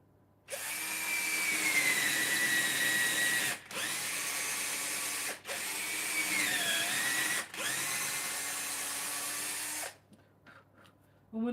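A power drill bores through a WIFA Deluxe roller skate boot in three or four sustained whining runs broken by short pauses, the motor pitch dipping as the bit bites, close and loud, ending in small handling clicks.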